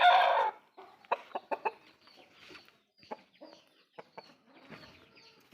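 A fighting Aseel rooster gives a short burst of calls, then a series of soft clucks and quiet scratching sounds in an otherwise calm setting.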